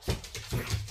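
Playing dogs give short, close whiny whimpers and huffs in a quick repeated rhythm, about three or four pulses within a second, with no one talking.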